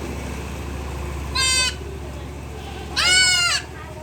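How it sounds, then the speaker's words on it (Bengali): A baby goat at a veterinary hospital bleats twice while getting an injection, one short cry and then a longer, louder one, close by over a low steady background hum. "ছাগলের বাচ্চাটাকে ইঞ্জেকশন করাচ্ছে।"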